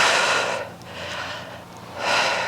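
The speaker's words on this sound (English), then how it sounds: "Inhale, exhale." Audible breathing during a Pilates reformer exercise: a strong inhale, a quieter pause, then a forceful exhale, close and breathy.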